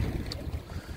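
Wind gusting outdoors at VDNKh, buffeting the microphone in a short, low, rumbling rush with no other sound.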